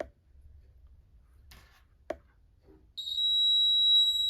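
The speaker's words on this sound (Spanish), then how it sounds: "se cierra el circuito y escuchamos al zumbador" A small electric buzzer sounds a steady, piercing tone as a piece of graphite, a semiconductor, closes the circuit. The tone starts abruptly after a few faint clicks and holds continuously, clear and close.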